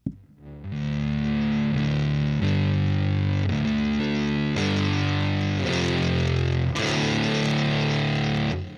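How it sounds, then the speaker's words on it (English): An electric guitar played through a fuzz pedal and a Line 6 DL4 MKII rings out in thick, heavily distorted chords, each struck and held for about a second or two, loud and sustained. "Hold on, I got this fuzz over here though"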